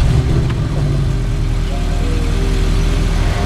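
A Porsche 718 Boxster with a 2-liter turbocharged four-cylinder engine running steadily at close range, a continuous low rumbling drone without a clear crank or sharp rev.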